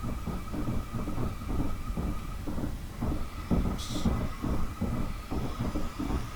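A Class 455 electric train in a train simulator game, starting away from London Waterloo, runs with a loud motor hum and a steady rhythmic clatter of wheels over rail joints.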